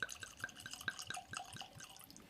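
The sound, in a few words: pouring Found North Batch 10 whisky into a glass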